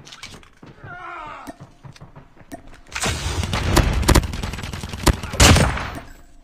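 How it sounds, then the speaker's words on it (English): Shotgun blasts in Call of Duty Mobile, a run of sharp, loud reports at irregular intervals, heavier bursts clustered in the second half, after a quieter opening with faint game sounds. "he's using a shotgun"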